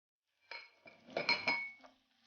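A metal spoon clinking and scraping against a pot while stirring rice being sautéed with onion and ghee, a short burst of close, bright clatter.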